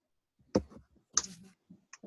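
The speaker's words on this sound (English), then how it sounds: "Okay, still typing?" Keyboard typing during an online math class, a few sparse clicking keystrokes in irregular rhythm, close and fairly clear against silence.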